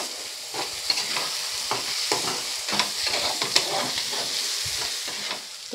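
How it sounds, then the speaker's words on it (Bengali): Spice masala with kasuri methi stirred and fried in a pan for Bengali katla fish curry, a soft continuous sizzle broken by repeated scraping and clinking strokes of a spoon at an uneven rhythm. "দিয়ে আবারও একটু নেড়ে নেব"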